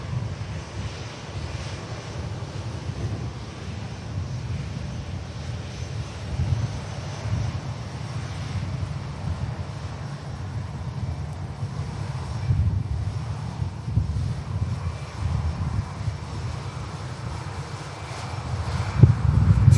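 A Vueling airliner with IAE engines arrives at Manchester Airport, a low, distant engine rumble under heavy wind buffeting that swells slightly toward the end.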